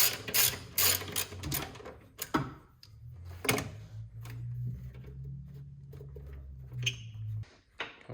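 Ratchet wrench working a half-inch motor mount bolt on a Jeep Cherokee XJ, fast bursts of clicking followed by a low grinding mechanical hum, fairly faint.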